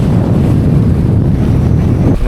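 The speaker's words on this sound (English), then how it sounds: "A nasty crosswind here." A strong crosswind blasts across the microphone while fishing from a boat, a loud, steady low roar with water sloshing underneath and no speech.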